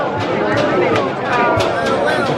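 A dense crowd of guests waiting at Epcot's 35th anniversary event at Walt Disney World, steady babble of many voices close around, no single speaker standing out.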